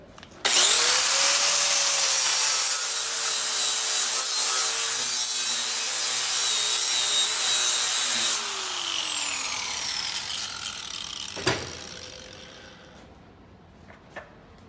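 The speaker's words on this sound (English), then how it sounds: "let's see what the sanding flap disc does" An angle grinder with a sanding flap disc whines loudly on metal for about eight seconds, a steady abrasive grinding roar, then winds down, followed by a few light clanks.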